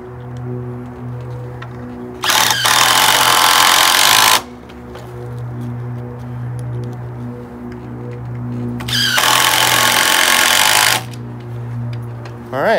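A power driver drives screws into a Simpson joist hanger on a wooden deck frame in two loud, sustained whirring bursts. Each burst lasts about two seconds, with a quieter pause between them.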